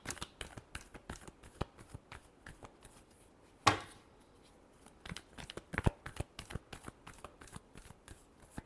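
Tarot cards being shuffled in a long run of quick, crisp riffles and flicks, with one louder snap partway through, close and clear with no voices.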